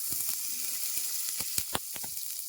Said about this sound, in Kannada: ಕಡಾಯಿ ಕಾದಿದೆ ನಾನು ಟ್ವೆಂಟಿ ಗ್ರಾಮ್ ಅಷ್ಟು ಬಟರ್ ಹಾಕ್ಕೊಳ್ತಾ ಇದ್ದೀನಿ